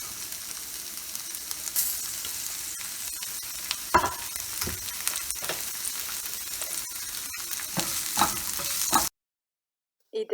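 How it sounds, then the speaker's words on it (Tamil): Onions sauté in a pan over medium heat for a Tamil curd-based curry, giving a bright steady sizzle broken by a few spatula scrapes and knocks before the sound cuts off abruptly near the end. "இதை 2லேருந்து 3 நிமிஷத்துக்கு நல்லா வதக்குங்க"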